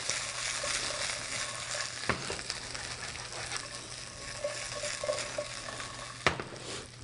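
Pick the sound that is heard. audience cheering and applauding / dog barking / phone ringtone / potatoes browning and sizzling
potatoes browning and sizzling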